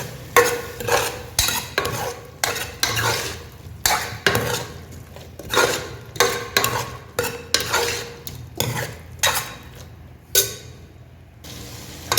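Mutton and potato masala with bottle gourd being stirred in a pan, giving repeated scraping and clinking strokes of a spoon against metal in an irregular rhythm, close and fairly loud, with a faint sizzle underneath and no voices.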